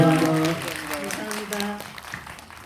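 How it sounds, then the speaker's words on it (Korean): An audience at a film talk event for a movie screening claps at the close, a brief burst of applause that tapers off, with a voice speaking over the start. "큰 박수 부탁드립니다"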